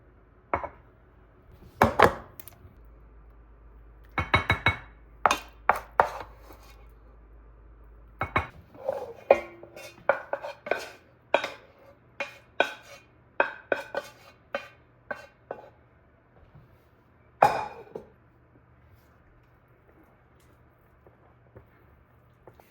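A knife cuts through baked cinnamon rolls for a fall apple bake, giving a series of close, sharp taps and clinks against a dish or board in irregular bursts, with quiet gaps between the cuts.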